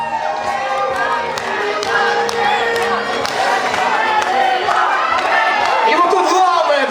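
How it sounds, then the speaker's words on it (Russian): An audience at the Mister INZHEK 2012 pageant cheers and claps steadily from start to finish, a dense, loud wall of crowd noise with shouts and whoops mixed in. "давайте похлопаем"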